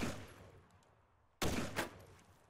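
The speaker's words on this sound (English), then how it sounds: "Shooting his last stand up target." Gunfire at stand-up targets on a police obstacle course during an open house: a loud sharp report partway through followed by another burst, with faint distant ambient noise before them.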